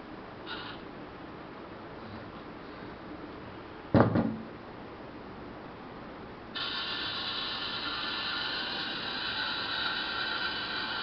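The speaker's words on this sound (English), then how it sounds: "Here you can see this arm is moving, and when this cutter and the arm move simultaneously, then it will give a circular shape to the thermocol sheet." A robotic arm rotates in a circular motion to cut a thermocol sheet, with a soft mechanical clack early on, then a steady whirring motor hum that starts partway through and continues.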